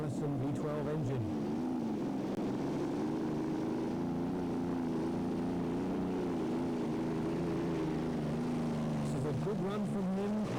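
A tractor-pulling vehicle powered by a single Allison V12 engine drones steadily at a distance, a sustained low roar with a wavering pitch that holds for about ten seconds, faint under a commentator talking.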